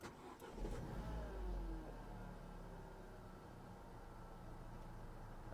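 A Mitsubishi car's engine idles steadily just after the ignition is switched on, with a low rumble and a faint, even whine over it, heard close up with no talking.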